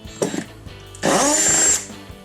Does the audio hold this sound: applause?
no